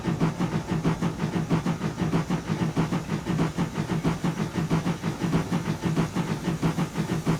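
Rhythmic metallic clanking of valve gear on an LNWR G2 steam locomotive in a train simulator, rolling with the throttle shut on the Weardale line, repeating in a steady chuffing beat under a faint hiss.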